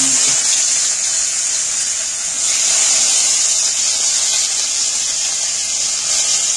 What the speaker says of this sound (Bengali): পেঁয়াজগুলো এই তেলের মধ্যে তুলে দিয়ে এবার পেঁয়াজগুলোকে আমি একটু ভেজে নেব